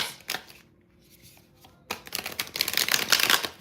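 A short tap, a pause, then a brisk riffle of tarot cards being shuffled up close, papery and crisp.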